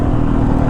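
A 2022 Yamaha YZ450FX dirt bike engine drones steadily and close while riding a dusty motocross track, a brief even roar with no clear rise or fall in pitch.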